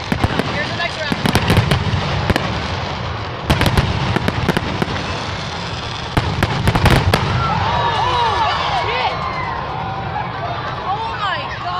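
Fireworks crack and pop in loud clustered bursts, one shell exploding wrongly, followed by fizzing and crackling; excited voices shout over the bangs nearby.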